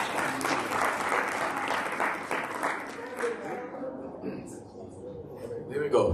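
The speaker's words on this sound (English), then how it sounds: "A big round of applause for Mr." Gala dinner guests applaud the auctioneer Peter Meyer with a burst of clapping that tapers off after a few seconds, as voices and room chatter carry on underneath.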